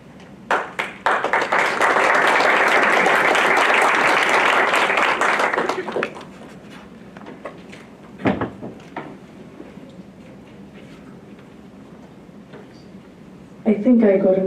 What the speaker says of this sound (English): I think I got an extra round of applause just because I'm a woman